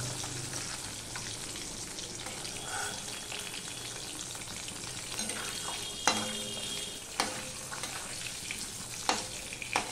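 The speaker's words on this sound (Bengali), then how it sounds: "দেখো মাছগুলো আমরা ঠিক এইভাবে আমি ভেজে নিচ্ছি লাল লাল করে" Pieces of katla fish frying in hot oil, a continuous close crackling sizzle with a few sharp clatters of a utensil against the pan toward the end.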